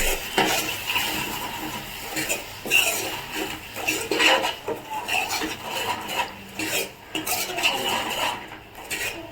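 Curry mixture stirred in a metal pot, a spoon scraping and clinking against the sides in a steady, irregular rhythm, close and moderately loud with no talking.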